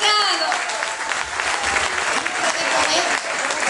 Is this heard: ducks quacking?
no